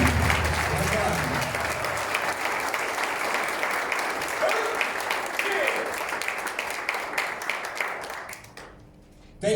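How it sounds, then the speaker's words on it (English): A crowd at a taekwondo belt presentation ceremony applauds performers in a long, dense round of clapping with voices talking and cheering through it, fading out at the end. "Another big cheer for our performers today."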